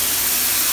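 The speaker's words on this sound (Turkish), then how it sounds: "Buhar var, her su kaynıyor." Steam hisses steadily from boiling water in a village home kitchen while hamburgers are being made, a close, even, continuous rush with no voices.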